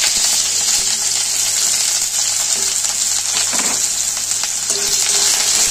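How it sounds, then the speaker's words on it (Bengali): Onions frying in hot oil with a kalonji (nigella seed) tempering for Bengali aloo posto: a steady, loud, continuous sizzle with a few faint utensil taps, no talking. "পেঁয়াজ কেটে রেখেছিলাম, পেঁয়াজটাও দিয়ে দেবো ফোড়নের মধ্যে"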